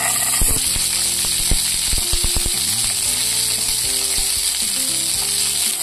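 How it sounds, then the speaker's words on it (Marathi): Shelled green peas dry-roast in a hot pan for hara matar kabab, making a loud, crackly sizzle. Sharp clicks and scraping from stirring cut through it, and nobody talks. "मटार हा त्याला एकदम असे डाग पडेपर्यंत चांगला भाजून घ्यायचा"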